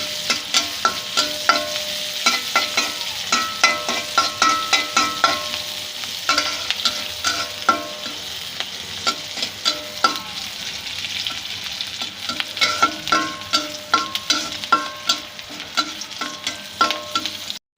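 Crackling sizzle of dried chillies frying in oil until brown, punctuated by repeated scraping and clinking of a spoon stirring the pan, steady and close throughout.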